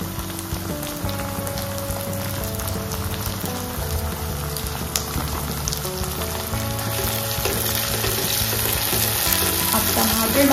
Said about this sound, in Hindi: इस स्टेज के बाद हम ये बारीक कटे हुए टमाटर डाल देते हैं।